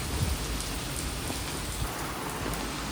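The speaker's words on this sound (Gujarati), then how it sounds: "વરસાદ ચાલુ થયો ઘણો" Heavy afternoon rain pours down in a steady, dense hiss that fills the whole stretch without a break, and no voices are heard.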